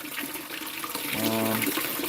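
A powered gold sluice starts up and its pump pushes water through, so steady rushing and splashing fills the clip. Partway in, a low electric motor hum rises beneath the flow and then fades.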